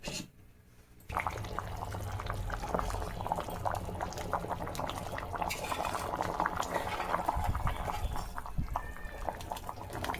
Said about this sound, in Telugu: ఇప్పుడు మూత పెట్టేసి ఉడికించుకుందాం.